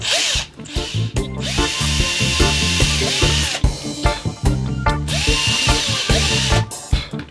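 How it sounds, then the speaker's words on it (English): A power drill bores a pilot hole into a scratch-built Les Paul Junior style wooden guitar body, its motor whining loud and close in repeated bursts that rise and drop in pitch as the bit bites in, with no talking. "Pilot hole done."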